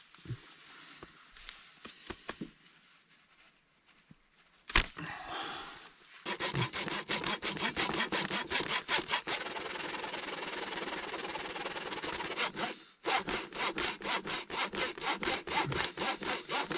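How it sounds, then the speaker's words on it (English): A hacksaw cutting through electrical wiring cable for a cabin, with quick rhythmic back-and-forth strokes, near and clear, with short pauses between bursts of sawing and no talking. "First time using a hacksaw to cut the"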